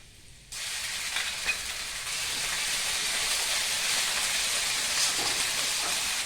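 Ginger and green chili paste drops into hot oil with fried onions, bursting into a loud, steady sizzle after a quiet moment and holding a bright, even hiss with a few crackles throughout.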